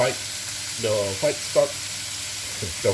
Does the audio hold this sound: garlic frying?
yes